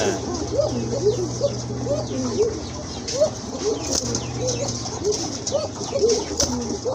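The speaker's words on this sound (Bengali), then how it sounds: "এখানে কিন্তু আরেক জোড়া কোকা কবুতর আছে" Koka pigeons, domestic pigeons kept in a loft collection, give soft repeated coos throughout. Wings flutter and flap close by, over a steady background hum.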